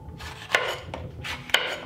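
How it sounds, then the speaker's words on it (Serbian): Peeled bell peppers are chopped into large pieces with a knife on a cutting board, giving a few crisp, close knocks spaced about a second apart over quiet room noise. "Sada ću iseći 3 očišćene paprike."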